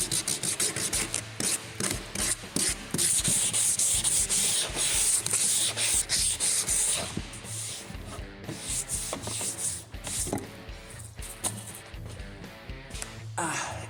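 Sanding block rubbed by hand along the corners of a wooden electric guitar neck during finishing, a steady scratchy rasping in repeated strokes, close and continuous, with someone talking over it.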